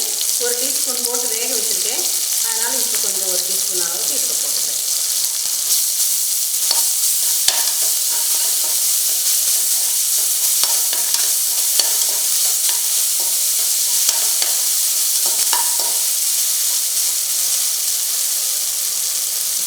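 Ginger paste sizzles and fries in hot oil with a steady loud hiss, a spoon stirring now and then, and a voice talking briefly in Tamil at the start.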